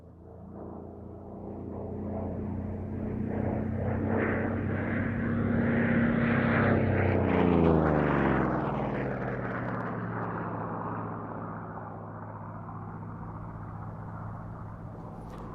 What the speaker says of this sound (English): The Corsair then positioning for its final pass before landing